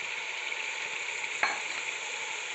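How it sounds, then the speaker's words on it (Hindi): Minced meat frying with garlic, ginger and garam masala, a steady, quiet sizzle with one brief stirring scrape partway through. "और 2 से 3 मिनट तक हम इसको लहसुन अदरक के साथ फ्राई करेंगे।"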